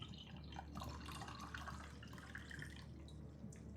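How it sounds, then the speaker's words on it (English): Tea poured into a cup: a steady, soft liquid trickle with a dripping, watery texture that runs unbroken at a fairly quiet, close level throughout. "As I pour myself my tea"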